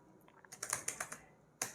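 A terminal command is typed on a computer keyboard, a quick close burst of soft key clicks with a short pause before a final louder keystroke.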